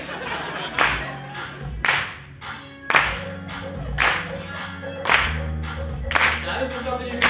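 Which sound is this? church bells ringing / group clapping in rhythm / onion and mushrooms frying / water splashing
group clapping in rhythm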